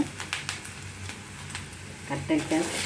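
Onions sautéing in a pan for an eggplant dish, a steady soft sizzle with scattered crackles and a few stirring scrapes near the end, with a faint voice in the background.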